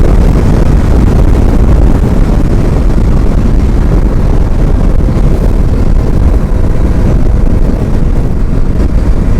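A KTM Duke 250 Gen 3 motorcycle rides in fifth gear at about 110 in street mode. Loud, constant wind buffeting roars over the microphone throughout and almost completely masks the engine.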